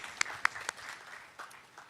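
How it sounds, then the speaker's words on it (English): Applause from a crowd at the opening celebration of a new affordable housing community, a few sharp claps followed by a light, scattered round of clapping that stays modest and fairly distant. "So a round of applause for everybody here."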